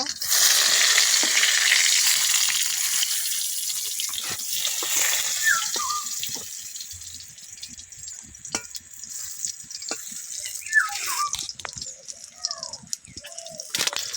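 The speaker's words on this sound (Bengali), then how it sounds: "তেল গরম হয়ে গেছে, আমি এক এক করে বেগুনগুলো দিয়ে দেব" Eggplant slices frying in hot oil in a kadai, a strong sizzle that gradually softens, with occasional scrapes and clinks of a spatula turning the pieces and a voice talking at times.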